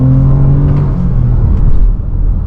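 Lexus RX 350 in sports mode pulling hard from inside the cabin, a loud low engine drone with rising pitch that dips briefly as the gearbox shifts up, no talking.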